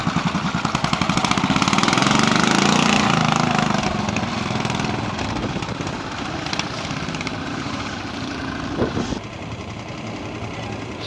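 A BSA Bantam trials motorcycle idles and revs between sections at a pre-unit trial in a quarry, its engine a steady, fairly close two-stroke buzz that is loudest early and then settles into a continuous running note.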